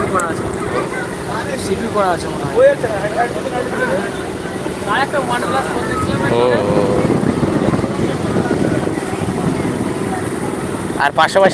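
Passenger launches travel together on a river in the Sundarbans, a steady low engine drone and water rush running throughout, with people talking over it.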